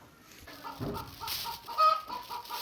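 Chickens clucking in a rural Thai farmyard in the morning, a run of short repeated clucks at moderate distance over a quiet background.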